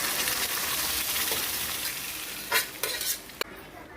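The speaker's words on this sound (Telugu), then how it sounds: "ఇప్పుడు మనం ముందుగా చేసుకున్న సొరకాయ పప్పు ఇందులో వేస్తున్నాము" Cooked bottle gourd dal (sorakaya pappu) going into a pot of hot tempering with curry leaves, a continuous close sizzle with several sharp stirring scrapes and clatters toward the end, no voices.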